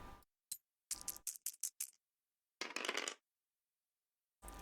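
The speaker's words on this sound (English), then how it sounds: "So go ahead and roll the 5 dice." Five dice rattling and clattering across a hard surface in a tabletop game, a burst of quick separate clicks followed by a longer tumbling rattle, loud and close with silent gaps between.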